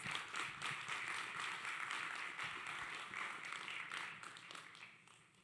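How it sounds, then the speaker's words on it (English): Audience applause at the Production Summit in Los Angeles welcomes two speakers to the stage, a steady, dense wash of many hands clapping that holds throughout and eases slightly toward the end. "A round of applause."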